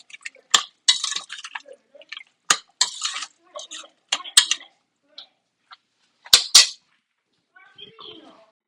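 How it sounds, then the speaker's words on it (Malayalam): A spoon scrapes and clinks against the inside of a pressure cooker while vegetable kurma is stirred, a series of sharp close metallic knocks and wet rasping strokes with gaps between. "ഇനി ഇത് നന്നായിട്ട് ഇളക്കി യോജിപ്പിക്കണം."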